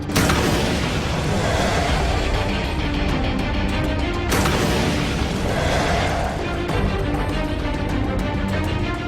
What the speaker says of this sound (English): waiting near the top of the hill for them is an MG-42 machine gun, firing 25 bullets a second.